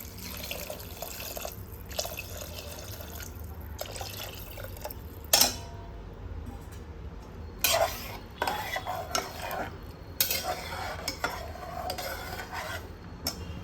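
Water is poured into sautéed rice and spices in a pressure cooker, heard as several quiet splashing pours and stirring clinks against a faint steady background.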